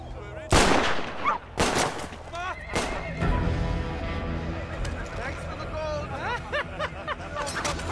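Bursts of gunfire crack out over a dense film soundtrack with music and voices, loud sharp shots at the start followed by scattered blasts.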